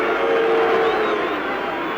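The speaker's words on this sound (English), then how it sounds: "And listen to the hoots from this crowd." A cricket crowd hoots and jeers at a bouncer, a dense, steady roar of many voices at a distance, loud and unbroken.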